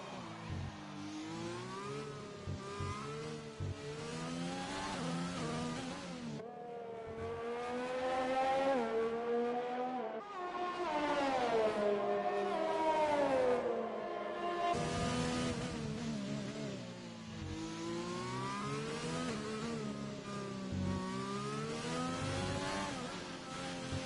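Race car engine from a sim racing league event at Abu Dhabi, steadily revving and shifting through gears on an out lap, sustained and fairly loud with rising and falling pitch sweeps throughout.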